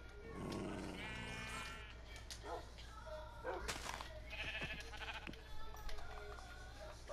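Sheep in the video game Minecraft bleat several times amid game effects, with a person talking over the top through much of it.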